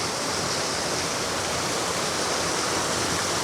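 A river rushing through a gorge near a waterfall makes a loud, unbroken broadband roar, close and steady throughout with no voices.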